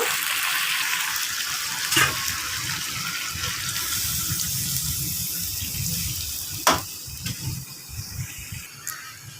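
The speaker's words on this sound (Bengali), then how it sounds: "এখন ঝোলের পানি দিয়ে দিব।" Water pours into a pan of frying poa fish and potatoes to make gravy, a rushing, gushing splash over hot sizzle, fairly loud and close, with a few sharper splashes and bubbling bursts toward the end.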